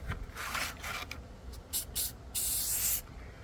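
A spray can lays matte clear coat onto a forced-patina copper QSP Penguin knife outdoors in wind, hissing in several short bursts and then one longer, louder blast.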